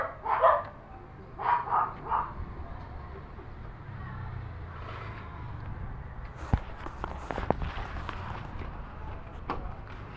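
A dog barks outside a closed gate on a hot day: a few short barks up front, then muffled footsteps and shuffling with faint voices in the background.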